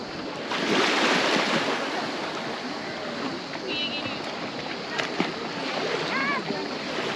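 Surf rolls onto a beach in Turkey, a broad steady wash of waves with gusts of wind noise over the microphone and a few faint bird chirps in the background.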